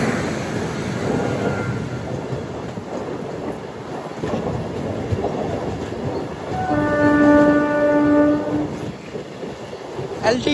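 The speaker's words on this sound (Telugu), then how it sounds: "ఆ మెయిన్ లైన్ లో నుంచి ఇంకో ట్రైన్ ఏదో వస్తుందండి" An LTT express train approaching on the main line beside a halted MEMU passenger train sounds a long, loud, two-toned horn blast midway, over a continuous rolling rumble and clatter of wheels on rails.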